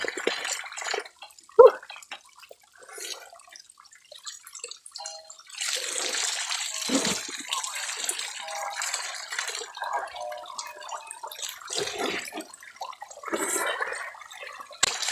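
Natural spring water in a rural province splashing and pouring during a bath, with irregular close sloshes and a steady running flow that swells in the middle, no talk over it.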